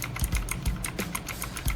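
Quick bursts of key clicks from a computer keyboard, close and crisp, irregular taps spaced a fraction of a second apart with no voices.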